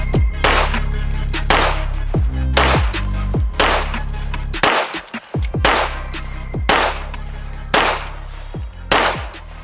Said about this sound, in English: We're going to shoot at the center target.